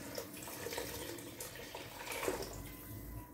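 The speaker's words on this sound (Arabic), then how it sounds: "غنزيد غنروي بالماء" Water pours in a soft, steady trickle into a pot of soup with vegetables, quiet and continuous with slight splashing throughout.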